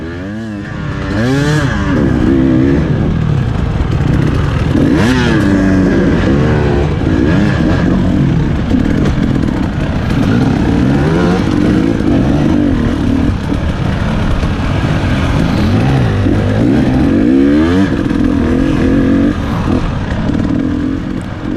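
Dirt bike in a harescramble race through forest trails, the engine revving loudly and constantly close up, rising and falling in pitch as the rider accelerates and backs off, no talk.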